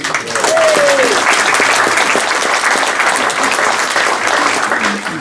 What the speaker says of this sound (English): I've got to say a huge round of applause